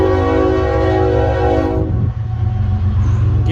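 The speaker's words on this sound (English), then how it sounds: "it's our friend the train too" A train rumbling past close by with a loud, sustained horn blast that cuts off partway, leaving the heavy low roar of the passing cars.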